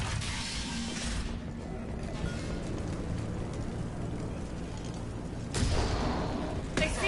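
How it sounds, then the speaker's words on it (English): Sustained gunfire from Blue Suns mercenaries and Borgia in a sci-fi shooter game, a dense, steady fusillade of shots and crashes lasting throughout, swelling louder near the end. "The Blue Suns and Borgia shooting anything that moves"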